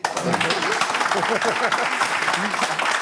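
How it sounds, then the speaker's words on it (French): Studio audience on a French game show breaking into steady, dense applause, close and continuous for a few seconds, with voices mixed in. "Allez, applaudissements."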